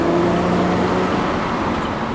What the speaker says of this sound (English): I will say the exhaust note for a V6 is beautiful.